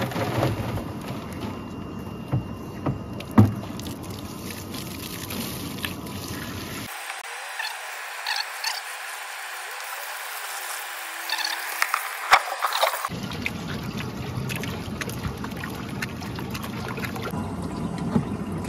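Compost gets sifted through a screen before going into an extractor, giving a close, irregular scraping and rattling texture with occasional sharp knocks and a brief stretch of quieter, muffled sound in the middle.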